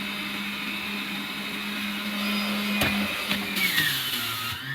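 A GDOR large-capacity centrifugal juicer crushes pineapples with a loud, steady motor whine and hum. Near the end, a few sharp knocks and a shifting pitch mark the fruit going in.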